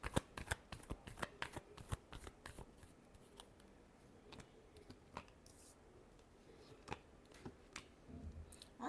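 Tarot cards are shuffled close up in a quiet room, giving a rapid series of crisp riffling snaps and flutters that come in uneven bursts, loud at first, then softer, then picking up again at the end.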